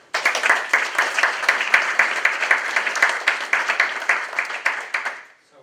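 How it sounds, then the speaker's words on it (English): Audience applause at a tech talk on AI, a fairly dense run of claps that swells and holds steady, then fades out near the end. "let's get him a hand of applause"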